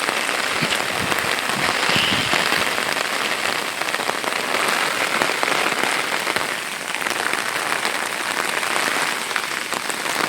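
Steady, dense monsoon rainfall pouring onto surfaces in a village with goats and cattle, a loud continuous hiss with scattered drop impacts throughout, no voices.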